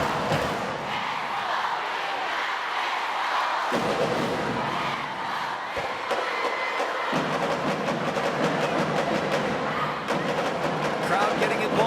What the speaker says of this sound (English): Crowd getting involved here.